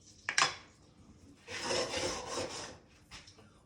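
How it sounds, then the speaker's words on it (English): A plastic spoon stirring flour into melted butter for a roux in a pan, starting with a sharp scrape and tap, then a long rasping drag across the bottom of the pan followed by a shorter stroke, close and fairly quiet, with no talking. "I like to mix it with my wooden spoon"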